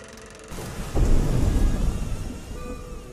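A night thunderstorm for an audio drama opens with steady rainfall, then a deep rumble of thunder swells and rolls out slowly over the continuing rain, with no voices.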